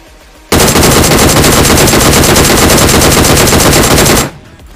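Sustained rapid automatic gunfire from PUBG Mobile, a loud unbroken burst of fast shots lasting about four seconds before cutting off abruptly.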